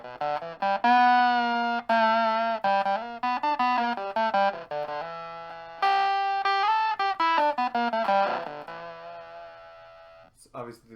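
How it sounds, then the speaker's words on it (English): A buzzy Microsynth synthesizer line shifted an octave up, rich in harsh harmonic distortion, playing a choppy run of sustained and short notes with brief gaps. "So obviously there's some harmonic distortion going on there."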